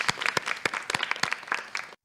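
A small group claps at a podcast recording in a cultural space, distinct sharp individual claps in a quick uneven rhythm, fairly close, cutting off abruptly at the end.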